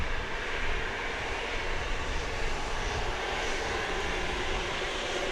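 An airliner at Grand Cayman airport taxis fast down the runway, its engines roaring loud and steady as one broad continuous rush with no speech.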